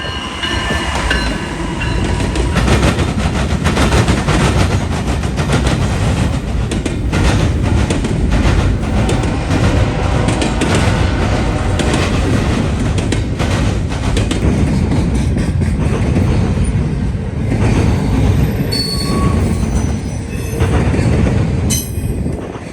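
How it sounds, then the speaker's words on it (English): A long Norfolk Southern intermodal freight train rumbles steadily past at close range in northern Ohio, with wheels clattering and occasional high metallic squeals over the continuous roar. "Shortly after, there was another northbound. It was an NS intermodal"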